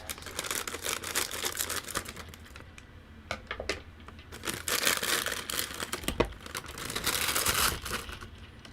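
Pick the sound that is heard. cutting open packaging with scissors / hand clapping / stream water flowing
cutting open packaging with scissors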